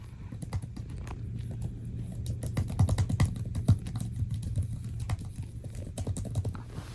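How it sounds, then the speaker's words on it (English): Typing on an Apple M2 MacBook Air keyboard, a quick irregular run of soft close-up key clicks over a low steady hum, no voices. "And then I can try it typing a bit"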